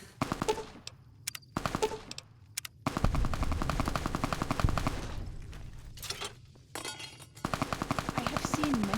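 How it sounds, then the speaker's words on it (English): Gunfire in Fallout: New Vegas, bursts of rapid automatic shots in quick rattling volleys separated by short pauses, loud and close. "Who is shooting, for God's sakes?"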